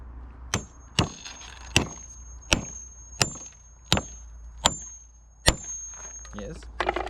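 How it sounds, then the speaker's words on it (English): Anchors being hammered into drilled concrete during garage construction, eight sharp metallic strikes at a steady, unhurried pace with a faint ringing tone, close and clear against a quiet background. "And then it's basically just to hammer those in."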